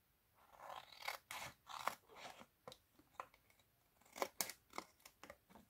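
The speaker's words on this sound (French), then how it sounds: "Et je coupe." Scissors cut paper for a simple scrapbooking box, producing a close, quiet series of crisp snips and rustling slices in an uneven rhythm.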